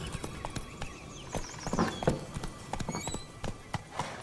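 In The Witcher 3, a horse's hooves clip-clop in a quick running rhythm over the ground, with a faint whinny partway through and light game ambience beneath.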